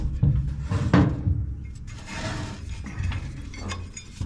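A socket wrench clicking and clanking while working on a John Deere S140 riding mower during a transmission drive belt replacement, with close metallic rattles and ratchet clicks coming in irregular bursts.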